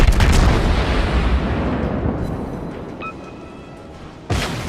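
Naval guns fire in the World of Warships battle game: a loud rolling boom opens, decays over several seconds with a faint ping, then a second sharp blast lands near the end.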